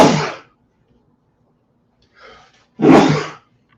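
Two sneezes, close and loud, with a short, soft breath between them, then silence.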